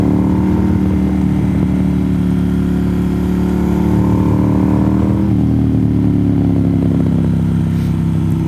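A motorcycle heard from inside a loud helmet, with heavy, steady wind roar over a droning mid-pitched engine that holds constant, then eases slightly partway through.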